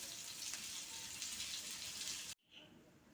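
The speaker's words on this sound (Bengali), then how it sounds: "চলো তো আলুটা ভাজা হতে থাক।" Potatoes frying in oil in a wok give a loud, steady, broadband sizzle close by that cuts off abruptly near the end, leaving a faint crackle.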